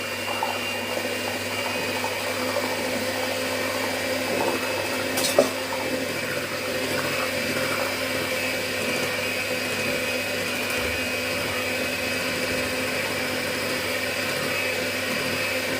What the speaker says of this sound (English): the thing with a hand mixer is you've got to be careful